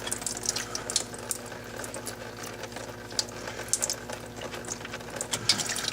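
Transmission fluid from a 2010 Toyota Corolla draining into a drain pan, a steady close trickling and bubbling pour with small splashes throughout, fairly quiet, no voices.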